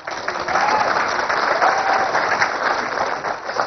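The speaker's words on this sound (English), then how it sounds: "Yeah, you can applaud for that." Audience applauding at a real estate investing seminar, a dense wash of clapping that swells quickly and stays steady, close and loud, with no talk over it.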